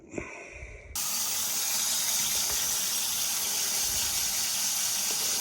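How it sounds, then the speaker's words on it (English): Warm water poured from a tap into dry ingredients for focaccia dough: after a second of quiet kitchen clatter, a loud, steady gushing stream of running water starts abruptly and continues evenly, close by. "I'm going to add some water to it here in just a second."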